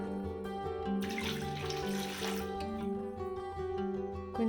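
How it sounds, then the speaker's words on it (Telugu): Water is poured into a pot holding six eggs until they are covered, a brief soft splashing stream heard faintly over background music. "ఇందులో కోడిగుడ్లు మునిగే వరకు వాటర్ పోసుకోవాలి."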